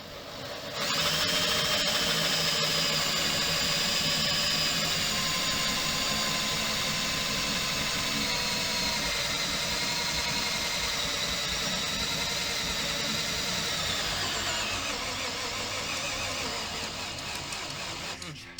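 A power drill boring a lock hole whirs continuously at a steady pitch for most of the stretch, close and loud, easing slightly near the end.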